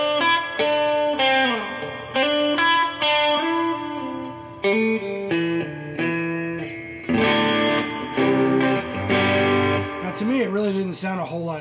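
An electric guitar with a humbucker pickup, a Fender Player Stratocaster, plays a run of distorted, ringing notes and chords, up close and with some effects.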